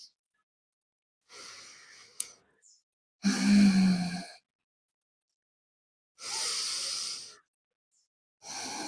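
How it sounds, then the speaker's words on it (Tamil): During yoga practice a person lying flat takes slow, deep breaths before the wheel pose. Several long airy exhalations, each about a second, are separated by quiet pauses and heard close up. "ஒரு ஆழமான மூச்சு ஒரு 3 எடுத்து விடுங்க"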